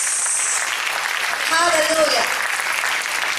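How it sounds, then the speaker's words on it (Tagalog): A worshipping church congregation claps together in broad, steady applause, with a voice calling out an exclamation of praise over the clapping. "palakpakan po natin ang Panginoon"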